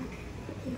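An aggressive male Madrasi pigeon coos once or twice in a short, low, close burst, with no talking.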